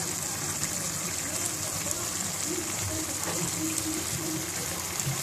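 Water pours steadily into a cooking pot for mutton yakhni pulao, a continuous close gushing and splashing that runs unbroken from start to finish at an even level, with no talk over it.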